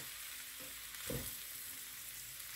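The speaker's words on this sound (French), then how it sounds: "les faire rissoler dans ma poêle à peu fort" A steady, soft sizzle of vegetables sautéing in a frying pan over fairly low heat, with a couple of light clinks from stirring partway through.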